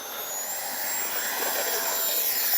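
An E-flite 64mm Viper electric ducted-fan RC jet on a 14.2-volt factory ESC takes off, a loud, steady broadband rushing whine with a high thin tone that holds and swells slightly, with no voices.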